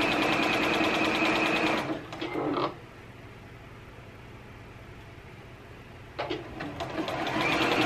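A sewing machine stitching a bra, loud rapid mechanical whirring in two bursts with a quiet pause between them.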